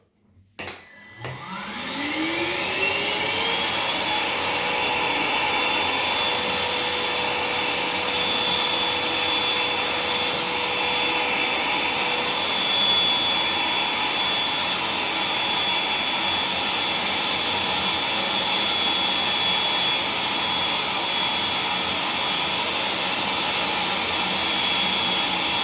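A Parkside PWDA 20 Li A2 cordless wet and dry vacuum starts up after a brief bump and spins up to a steady, loud whine that runs on alone without pause.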